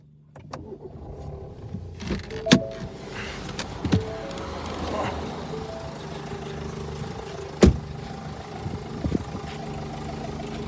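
An idling Ford 1.5 EcoBlue / Peugeot-Citroën 1.5 BlueHDi diesel engine with a timing problem: a loose, irregular rattle and a few sharper knocks standing out, heard up close with no talking.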